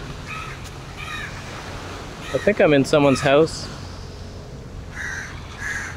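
Crows caw outdoors in Penang, Malaysia, near the sea: a few harsh, repeated calls at the start and again near the end, moderately close, with someone speaking briefly in between over steady background noise.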